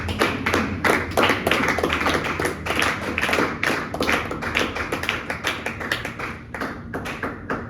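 A church congregation claps in steady, fast rhythm at a worship service, dense overlapping hand claps filling the room loudly and continuously.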